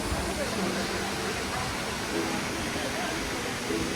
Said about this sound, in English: we are in the highest, biggest waterfall in the whole of Croatia